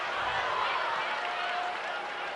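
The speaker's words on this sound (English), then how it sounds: "big cheers for her from a bumper crowd in Hamilton" Large crowd cheering at a women's international football friendly, Canada versus England in Hamilton, a steady roar of voices and applause at a distance, under a commentator talking.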